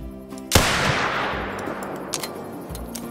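A single high-caliber rifle shot rings out in the hunting game Call of the Wild, a loud sharp crack with a long decaying echo, followed by faint mechanical clicks of reloading.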